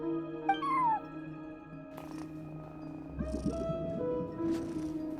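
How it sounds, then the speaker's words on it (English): A cat watching over a front desk in Genshin Impact gives a short rising meow, then soft purring and chirpy vocal sounds over a sustained musical background, no talk. "cat watching over the front desk"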